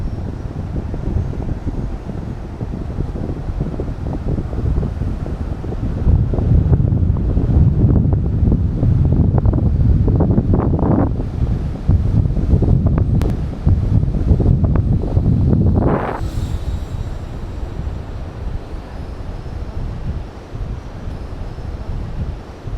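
Strong wind blows on a beach, buffeting the microphone with loud, steady roaring rumble and gusts, and a brief rising whine in the middle.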